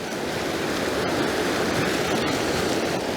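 Fast, hard river current rushing steadily during a fall fishing outing, a loud, continuous broadband wash of turbulent water with no pauses, close by and alone without talk.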